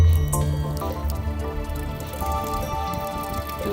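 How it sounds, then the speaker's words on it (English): Water trickles and drips from a bucket water filter into a glass, a close, continuous splashing with droplet patter over a low background hum. "The idea is that this water that's coming out of here would be fully filtered"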